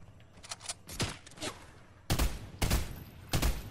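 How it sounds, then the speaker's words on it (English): Gunfire in the video game Fortnite aimed at the player: scattered light shots early, then three loud, close bursts of shooting at regular intervals, with no talk. "Oh, someone's shooting at me."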